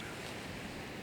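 Steady, rushing wind buffets the microphone, a dense roar with no voices or other sounds.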